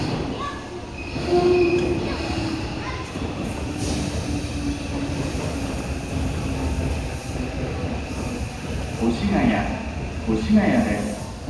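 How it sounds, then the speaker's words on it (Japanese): A Tobu Skytree Line local train at Koshigaya Station rumbles steadily with faint wheel squeal, while station announcements play over it throughout. "3番線の電車は各駅停車北越谷行きです。"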